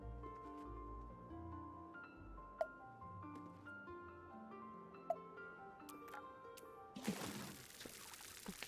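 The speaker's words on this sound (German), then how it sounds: "So, gießen wir wieder" Watering plants in the video game Grow: Song of the Evertree: a soft pouring trickle over gentle game music with a few chime notes, ending in a louder splashing gush of water.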